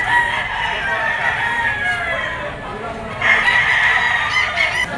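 Roosters crow again and again at a chicken auction market in Lipa, several overlapping calls from near and farther off, with clucking and crowd noise and voices talking underneath.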